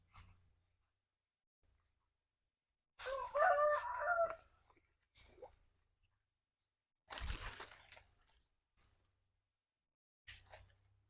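A rooster crows loudly a couple of times, with shorter clucks and calls from chickens between, separated by quiet gaps.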